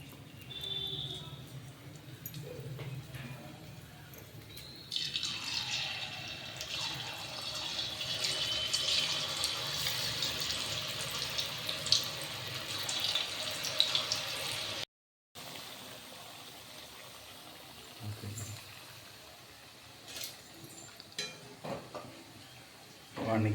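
Mushroom pakoda pieces frying in hot oil for a roadside-style mushroom masala: a faint sizzling hiss swells and runs for about ten seconds, then gives way to quieter handling sounds.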